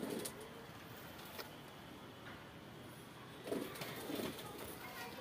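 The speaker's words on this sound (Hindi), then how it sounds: "बेहतरीन आंखों के कबूतर हैं चारों जोड़े" Soft, low pigeon coos repeat a few times against a steady hiss of background noise, faint and somewhat distant.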